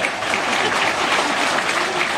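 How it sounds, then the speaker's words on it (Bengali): A crowd claps steadily and briskly at a school's annual prize distribution ceremony, a dense, even patter of applause that holds at full strength from start to finish. "তিনবারের হাততালি একবারে"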